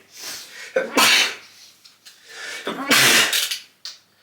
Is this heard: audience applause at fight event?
no